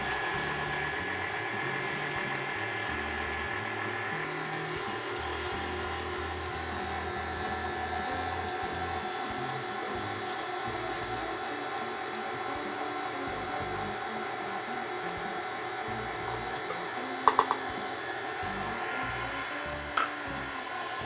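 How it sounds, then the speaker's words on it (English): An electric mixer whips cream cheese with sugar for a lemon blueberry cheesecake, a steady close motor whir running unbroken for about twenty seconds, with a couple of brief knocks near the end. "we're going to scrape it off the sides and whip it up again"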